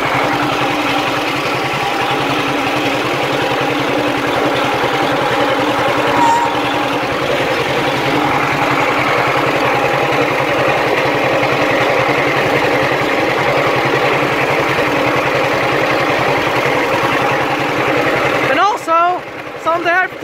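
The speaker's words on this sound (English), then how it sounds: "That's how you drive a John Deere two-cylinder tractor." A John Deere H two-cylinder tractor engine idles with a steady low throb that runs continuously and close by, then breaks off abruptly near the end.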